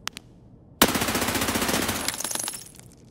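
Rifle gunfire in Escape From Tarkov: one sharp shot, then a rapid automatic burst of evenly spaced reports that thins out and fades over a couple of seconds, loud and close with no talking.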